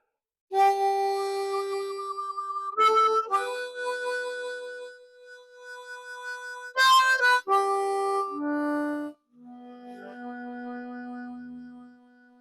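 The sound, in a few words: harmonica played with hand vibrato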